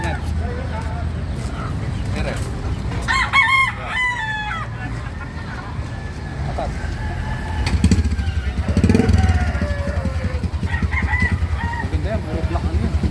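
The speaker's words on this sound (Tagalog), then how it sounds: "Black hen." Native chickens at a market stall, a black hen clucking and a rooster crowing loudly nearby, with a motorcycle engine rumbling and people talking in the background.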